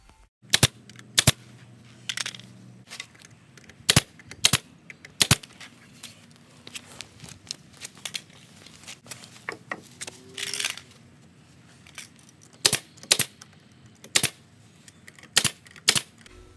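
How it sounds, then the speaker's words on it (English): A nail gun drives nails into 45-degree-cut wooden pieces of a DIY farmhouse table, giving sharp, separate snapping shots at irregular intervals with quiet handling noise between them. "I'm going to take my nail gun and nail in the pieces that I cut with a 45-degree angle on each side"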